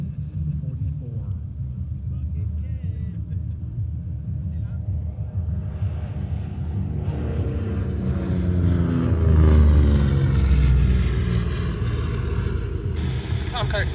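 An A-26 Invader World War II aircraft flies past at an airshow, its deep piston-engine rumble building from a distant drone to a loud, close roar before easing slightly, with an announcer talking over it.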